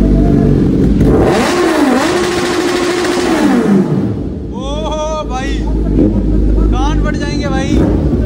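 Two bikes, one a 1000, rev hard together on an offroad outing, a loud continuous engine roar with rising and falling revs and sharp high whines near the end, under talking voices.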